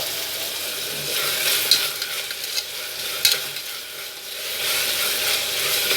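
Ginger paste, shallots and coconut paste frying in a pan for chicken biryani, a loud continuous sizzle that swells and eases as the mixture is stirred, with a couple of sharp utensil knocks.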